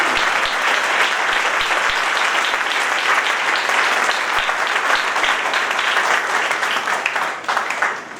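A congregation applauds during a church sermon in Urdu, a dense, loud, continuous clapping that fills the room and holds steady before tapering slightly at the end.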